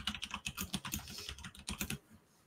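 Rapid clicking of computer keyboard keys, a quick burst of keystrokes for about two seconds, close but quiet, then stopping.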